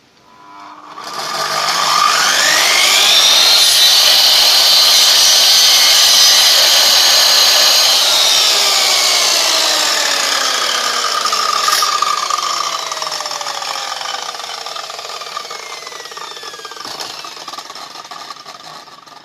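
A Parkside circular saw spins up loudly and cuts through wood, a sustained high whine that bogs slightly under load, then winds down as the blade slows, heard up close and alone.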